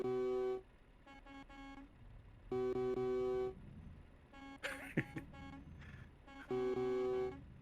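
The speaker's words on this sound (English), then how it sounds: "Them horns are pretty loud" Loud truck horns honk in Euro Truck Simulator 2, with long sustained blasts in three separate bursts. Softer engine and road noise fills the gaps, along with a brief throat-clearing sound.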